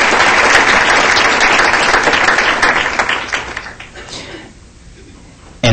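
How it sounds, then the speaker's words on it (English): Audience applause at a city council meeting, loud dense clapping that fills most of the stretch, then tapers off and fades toward the end. "please give them a well round of applause for the great job that you have done"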